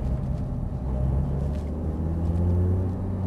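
An Audi R8 accelerates on the Lyon race circuit with a deep engine rumble that builds steadily, heard from close inside the car.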